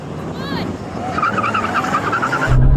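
Porsche 911 Turbo cars, including a 993, launch off the line in a drag race, with rising engine noise and sharp tire squeals growing louder and closer, ending in a loud rush.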